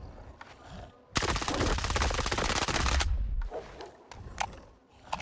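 In STALKER 2, an Avalanche weapon fires one sustained, loud, rapid automatic burst of about two seconds, followed by scattered shorter shots and clanks, with a voice in between.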